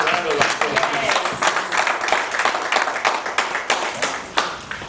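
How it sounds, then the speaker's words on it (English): Audience clapping at a Nigerian sports journalists' convention welcomes a guest, a fairly close, uneven patter of many hands with some individually distinct claps and a little background chatter. "Let us give him a round of applause"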